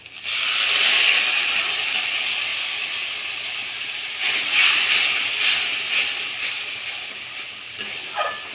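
Water poured onto curd in a hot pan with masala, giving a loud, sustained hiss and steam that fades slowly over several seconds.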